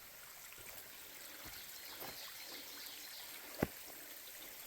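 A small waterfall trickles over moss-covered rocks in a rocky wooded spot, a faint steady wash of water with a few soft drips and one brief splash.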